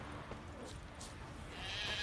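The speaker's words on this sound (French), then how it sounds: "Ne confusez jamais une brebis." A sheep bleats in The Witcher 3, the quiet in-game animal calls rising briefly over faint background ambience.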